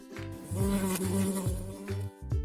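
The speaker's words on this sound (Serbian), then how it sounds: "Pčela." A steady, wavering buzz of a bee hovering close by, its pitch rising and dipping in short swells with brief pauses.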